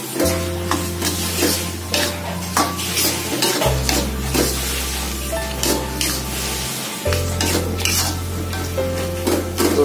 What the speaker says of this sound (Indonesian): kita campur ke sini terinya. Terus namanya petainya kita aduk sampai rata.